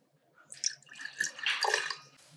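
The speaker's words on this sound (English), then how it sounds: "And we're going to pour this into the bottom of our glass." A blue curacao mocktail for kids is poured into the bottom of a glass, making a close, bubbling liquid pour that rises and falls over about two seconds, with no voices.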